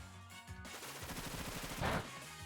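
Rapid rattling burst of the Bullet Seed attack in Pokemon Shield, a quick string of staccato popping hits over game music, fairly faint.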